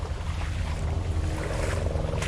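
Shallow Cajon Creek in the California hills flows over rocks in a steady, close-up wash of water, mixed with wind buffeting the microphone, with no talking.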